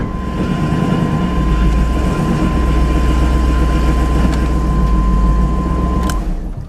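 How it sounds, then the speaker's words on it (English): An OBS-era GMC/Chevy pickup truck engine idles steadily and close, a loud continuous low rumble with a faint whine, before it cuts off near the end as the truck is put in gear. "Started right up. I'm gonna put it in gear."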